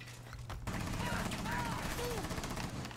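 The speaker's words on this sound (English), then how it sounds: "Break it with the shotgun" A shotgun blast breaks a hatch in the tactical shooter Rainbow Six Siege, a loud burst of gunfire with a sharp onset and a continuous roar of shots that follows, while a voice talks over it.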